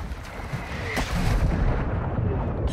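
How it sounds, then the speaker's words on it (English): Mortar strike explosions in Call of Duty: Modern Warfare II thunder in a heavy, rumbling barrage, with deep booms rolling into one another and a sharper crack near the start, loud and sustained throughout. "Mortar strike on the way."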